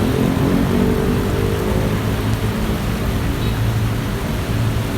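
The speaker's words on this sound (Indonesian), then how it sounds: "Lumayan angin guys." Strong night wind over a city centre roars steadily with a dense low rumble and broadband rush, loud and unbroken, no voices.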